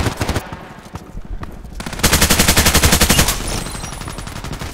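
Rapid bursts of AUG A3 assault rifle fire in the shooter game Contract Wars, loud and close, with dense repeated shots that grow heavier midway before trailing off.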